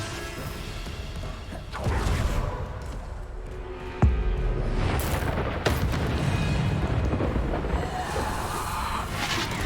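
Bombarda spell blasts from the wizarding game Hogwarts Legacy, deep booming explosions with crashing debris, one sharp hit standing out among sustained rumbling combat noise.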